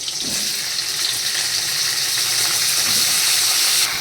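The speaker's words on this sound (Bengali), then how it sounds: "এবার দিয়ে দিচ্ছি ঢেঁড়সগুলো" Okra drops into hot oil already holding chopped tomatoes, and a loud, dense, continuous sizzle of frying follows, close and steady throughout.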